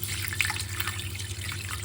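Water poured into a pot of mutton raan with vinegar, chilli, turmeric and whole spices, a close, continuous splashing gush with some trickling.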